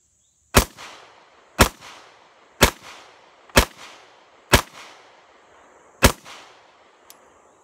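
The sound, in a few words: rapid fire from a stainless steel WWII Luger pistol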